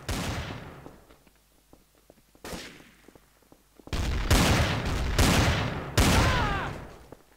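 Gunfire in the game Trouble in Terrorist Town: sharp, loud shot bursts that ring out and decay, a burst at the start, another mid-clip, then dense rapid volleys near the end.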